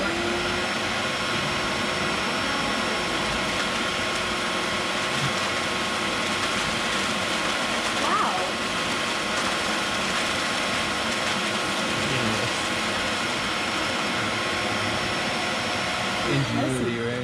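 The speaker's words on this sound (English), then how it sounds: "find a new use for the vacuum cleaner" A steady, loud mechanical whir of a vacuum cleaner running continuously on a cacao farm, separating cacao shells, with faint rattling and shifting debris sounds over it.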